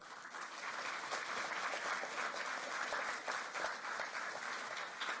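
A crowd claps steadily and enthusiastically throughout an institute inauguration ceremony, a dense wash of applause from a large audience with no pauses.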